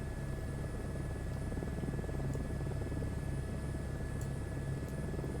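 A helicopter flying in Microsoft Flight Simulator 2024 on a snowy mountain search and rescue mission, a steady low rotor drone and engine hum held evenly throughout, with no talk.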